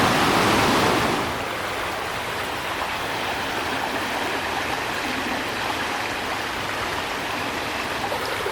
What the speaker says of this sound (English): So that's the Wanganui River at the Okapai landing.